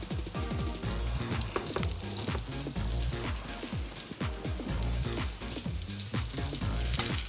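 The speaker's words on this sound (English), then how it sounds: "After browning it on both sides, Frank pops the pan into the oven for 10 minutes to cook it through." Breadcrumb-coated food browns in a hot frying pan, giving a loud, steady sizzle and crackle with dense popping spatter throughout.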